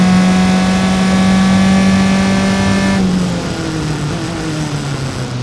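Single-seater race cars in an SCCA Improved Touring race at Mid-Ohio pass on the track, one loud sustained engine note dropping in pitch as it goes by, then a lower drone from the following pack.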